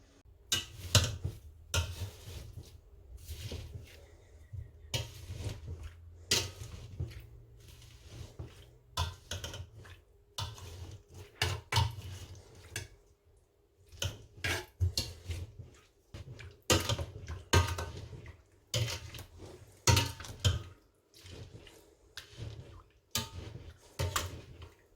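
Sugar is stirred into guava jam with a utensil, producing irregular close knocks and scraping taps against the pot or bowl in uneven bursts.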